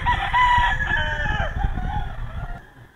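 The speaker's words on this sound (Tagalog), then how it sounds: "Ito po ay isa sa mga personal na manok ni Sir B-Boy Enriquez." Rooster among Sir Biboy Enriquez's personal fighting chickens lets out a loud, close crow that tails off over a few seconds, with faint clucking beneath.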